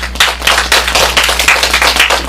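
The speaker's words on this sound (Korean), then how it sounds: "잘 하신 OS 컨설턴트를 위해서 다시 한번 박수를 부탁드리도록 하겠습니다" Audience at a school STEAM education presentation gives a loud round of applause for the student presenters, dense clapping of many hands held steady for a couple of seconds with no talk.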